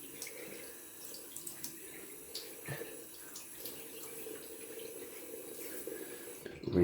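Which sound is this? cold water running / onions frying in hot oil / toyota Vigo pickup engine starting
cold water running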